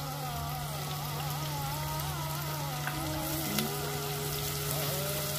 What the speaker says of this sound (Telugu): ఉప్పు వేసుకుంటే తొందరగా వేగిపోతది ఉల్లిగడ్డ ఇంకా వేగాలండి మంచి గోల్డెన్ బ్రౌన్ కలర్ కి రావాలి